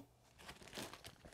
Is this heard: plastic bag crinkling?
yes